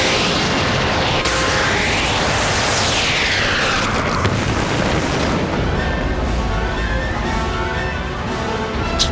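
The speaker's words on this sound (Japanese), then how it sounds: "あの爆発はモビルスーツ。" A mobile suit explodes in the 1999 anime Turn A Gundam, a loud, sustained rumbling blast with crackling debris and sweeping whooshes that fills the whole stretch without any voices.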